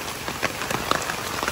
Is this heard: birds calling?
no